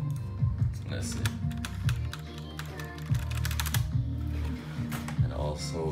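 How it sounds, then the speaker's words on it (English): Rapid typing on a mechanical computer keyboard in a home PC gaming setup, dense close-up clacks in quick irregular bursts over a low background hum. "keyboard is obviously mechanical"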